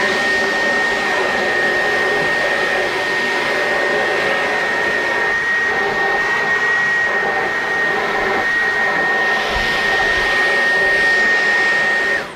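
Dyson V11 cordless stick vacuum running on carpet after a couple of years of use, a steady loud motor whine with a sharp high tone that holds throughout and cuts off at the end, with no voices.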